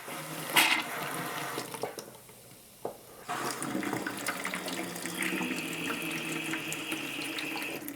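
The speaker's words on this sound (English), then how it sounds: "We're going to turn on the tap." Water from a homebrew beer keg tap runs out and drains into a bucket with a loud continuous splashing gush, briefly dropping away before surging back steadily.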